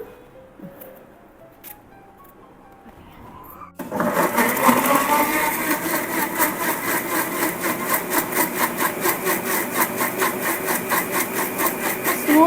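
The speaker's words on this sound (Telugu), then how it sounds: "ఇట్లా పర్సిమోన్ని చిన్న చిన్న పీసెస్ చేసేసుకుని మిక్సీలో వేసేసుకుంటున్నాను" After a few seconds of quiet, a mixer grinder blending chopped persimmon roars to life and whirs loudly and continuously, its pitch pulsing as it chops and blends.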